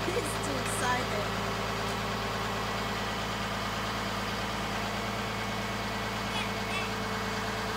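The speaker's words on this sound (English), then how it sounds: "Gonna be a little bit noisy because my truck's gotta run" A truck engine idles steadily nearby, a continuous low rumble that runs under voices and the clatter of a car-hauling scene.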